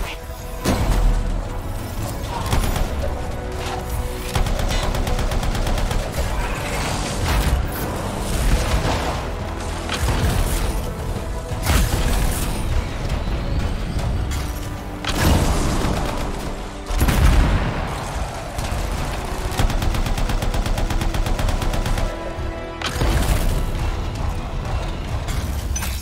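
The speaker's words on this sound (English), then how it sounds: "Shoot now, talk later." Dense, loud gunfire in the Anthem video game, with rapid bursts, heavy booms and mechanical clatter, continuing almost without pause across the whole stretch.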